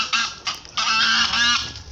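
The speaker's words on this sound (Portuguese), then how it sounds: "Mano, esses gansos avançam." Several geese honk loudly and close by in a farmyard, a few short calls followed by a longer, rapid run of harsh honks.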